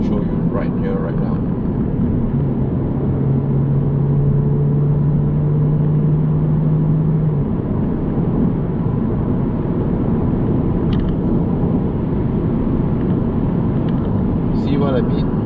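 A 2019 Toyota Camry engine revs above 2,500 RPM in a loud, steady roar that drones on without pause for the whole stretch, with a low hum holding through the middle.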